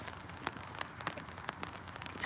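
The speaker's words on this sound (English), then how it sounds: "Yes, it is raining." Light rain falls outdoors, with scattered drops tapping softly on surfaces at irregular intervals over a quiet, faint background wash.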